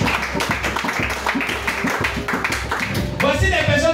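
A church congregation claps in a steady rhythmic beat during a lively worship service acclaiming Jesus, many hands close together, with voices underneath and louder singing or shouting rising near the end.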